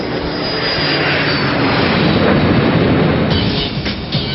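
An airborne airplane's engine drones steadily in a loud, continuous low roar and whoosh, heard from inside the aircraft with no talking.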